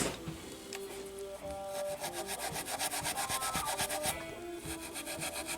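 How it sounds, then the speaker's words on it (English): Heavy steel wool rubs back and forth across a Hamer Slammer guitar's finish in quick, even scratchy strokes, close and steady throughout with a faint background hum. "After the sandpaper, I like to use a little bit of steel wool."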